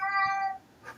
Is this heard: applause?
no